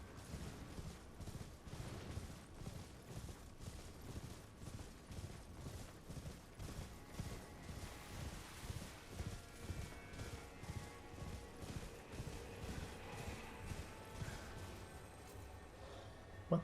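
Hooves of a mounted rider in Elden Ring approach as a faint, regular rhythm of soft thuds, evenly paced and distant, with no talking over them.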